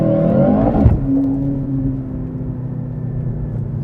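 A 2023 Mercedes C63 AMG launches from a race start, its engine revving loudly and rising in pitch for about a second before a sharp shift, then settling into a steady, strong drone as it pulls away.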